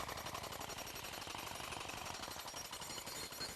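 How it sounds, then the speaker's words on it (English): A jackhammer driving a deck post into the ground pounds continuously in a rapid, loud, unbroken hammering rhythm, close by, with no voices. "you will need to continue to operate the jackhammer"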